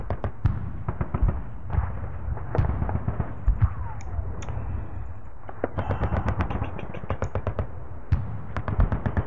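Gunfire in the John Tiller Sealion '40 wargame crackles as scattered sharp shots and rapid clustered bursts, moderately loud over a low background rumble.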